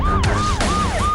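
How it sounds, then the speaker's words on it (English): VIP motorcade sirens wail loudly and close, rising and falling in quick repeated sweeps under a steady traffic rumble. "deafening sirens"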